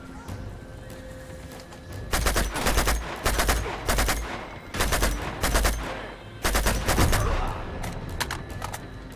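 Gunfire in the Uncharted 2: Among Thieves video game: rapid bursts of automatic shots arrive in four or five distinct volleys, loud and close, between quieter gaps with background noise.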